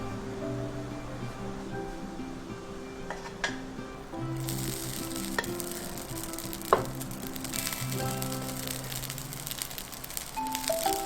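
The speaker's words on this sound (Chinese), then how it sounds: "取一砂锅烧热，将炒好的上海菜饭放入砂锅中，就可以享用喽。" Shanghai vegetable rice sizzles and crackles steadily in a hot clay pot, a continuous frying hiss that grows brighter and louder partway through, with occasional sharp pops and faint clinks; no talking.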